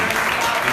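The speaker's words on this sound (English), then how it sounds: "Give me a round of applause." Brief burst of applause from a summit crowd in New York, dense and continuous, with voices mixed in.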